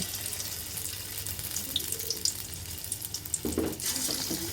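Small lentil and long bean fritters drop into hot white oil in a wok-like pan, raising a steady, close sizzling hiss. Louder bubbling bursts come near the end.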